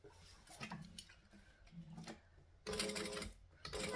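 Sewing machine stitching the bottom hem of a garment, quiet uneven whirring and clicking bursts, with louder, denser runs of stitching toward the end and no talk.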